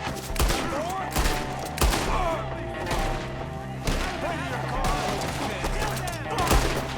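Rapid volleys of gunfire in a Red Dead Redemption 2 shootout, sharp repeated shots and bursts overlapping loudly throughout alongside background score, with voices shouting over the firing.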